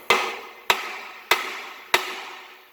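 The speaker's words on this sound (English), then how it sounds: "me, I hit things with hammers" Four sharp metal hammer blows, evenly spaced and close, strike an M35A2 Spicer 3053A transmission being taken apart, each ringing briefly before the next.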